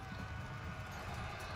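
Light horse cavalry in the Pike and Shot strategy game moves in a dense, continuous rumble of hoofbeats, a steady loud wash of galloping with no clear gaps.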